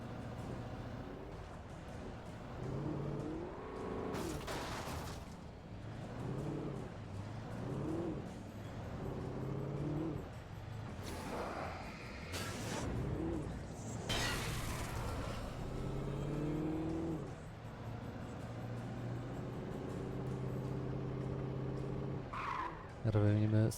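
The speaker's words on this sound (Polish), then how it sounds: "I jedziemy przez szczere pole." A car in the Alan Wake video game drives across an open field, with engine hum, repeated tire skids and squeals, and thumps over rough ground, while someone talks throughout.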